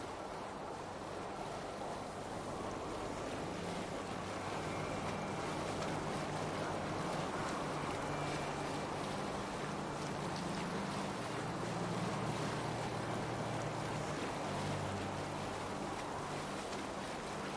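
Viking longship sailing through waves in Assassin's Creed Valhalla, a faint, steady rush of water and wind with a low rumbling hull drone that holds evenly without a break.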